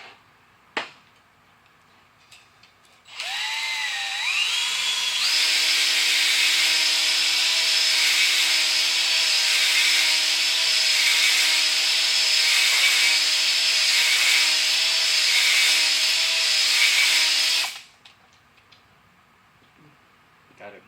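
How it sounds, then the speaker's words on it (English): A drill on a slow speed setting drives a hone inside the cylinder walls of a 5.3 engine, giving a continuous grinding whir for about fourteen seconds with a brief pitch rise at startup, then stopping, with quieter surroundings before and after. "I'm gonna turn my drill down on number 1 with a bit of slower speed setting, so I can get my crosshatch looking better."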